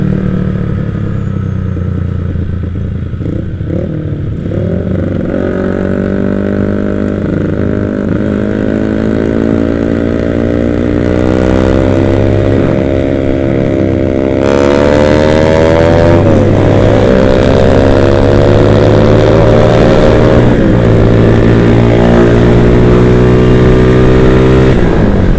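A motorcycle engine with a troublesome carburetor revs loudly and close up, its pitch climbing and falling in repeated sweeps over a steady running drone, with no talking.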